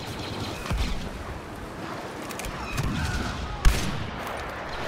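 Gunfire from the Star Wars Battlefront beta, a dense, noisy rattle of shots and distant blasts in an online battle, with one sharper crack near the end and no talk.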